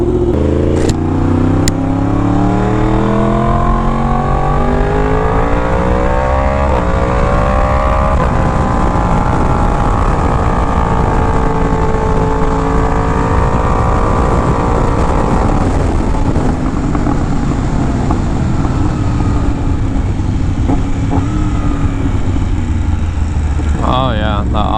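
A Yamaha R1M motorcycle engine, fitted with aftermarket parts, revs loudly and close up, its pitch climbing and falling through repeated sharp auto-blip throttle bursts, a dense roaring drone throughout with no talk.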